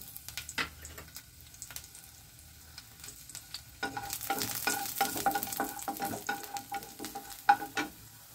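Chopped garlic hits a little hot oil in a pan, quiet scraping and stirring first, then a louder crackling sizzle with scattered pops and spatula clicks, close and steady.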